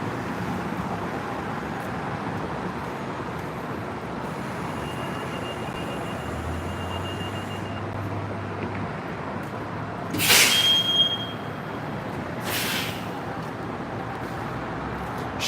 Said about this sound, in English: Here's the New York City bus.